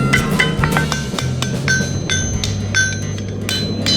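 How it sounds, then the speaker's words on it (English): Repeated hammer strikes ring out on a metal strap laid over an anvil while a handmade rustic buckle strap is shaped, a steady close series of sharp metallic blows. "I'm going to use the sheet of this anvil."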